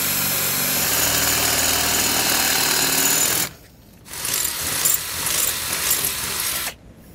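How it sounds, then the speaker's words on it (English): A loud power drill whirs continuously while drilling holes in a 2020 Jeep, stops briefly, then grinds again for a few seconds before cutting off. "we're just going to go ahead and drill out each hole on each side"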